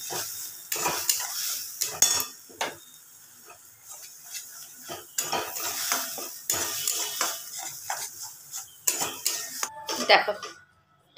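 Shrimp paste is stirred and fried dry in a pan, with repeated scraping strokes of a spatula against the metal over a soft sizzle, steady and close, with no talking.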